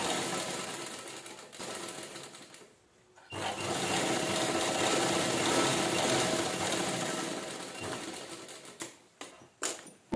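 A sewing machine stitches canvas onto a standing hand purse, running in rapid mechanical bursts with a short pause partway through and a few brief stops and restarts near the end.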